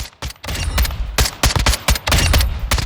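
Rapid suppressed gunfire from a weapon in Call of Duty Modern Warfare II, fitted with a suppressor and large optic, firing in quick bursts of clipped, muffled shots close up with no talking.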